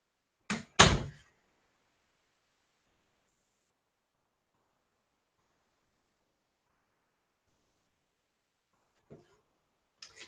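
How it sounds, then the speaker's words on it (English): A door slams shut once, loud and close, in a quiet room, followed by a long silence and a couple of faint knocks and shuffles near the end. "I'm gonna close that door in case one of the kids needs to go in there."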